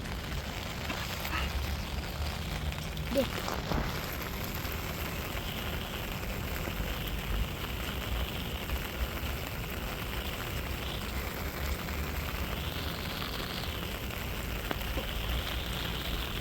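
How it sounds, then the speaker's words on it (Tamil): Heavy rain falls in a steady, even wash of hiss that holds unchanged the whole time, moderately quiet, with no voices over it. "இன்றைக்கி நல்ல மழை ஊற்றுதுங்க"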